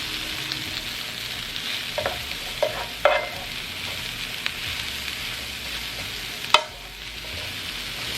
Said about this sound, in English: So I'm gonna let these cook down